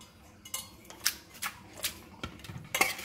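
Fish pieces being mixed with marinade in a bowl, giving a series of light, separate clinks and scrapes spaced roughly every half second, fairly close and quiet with no voices.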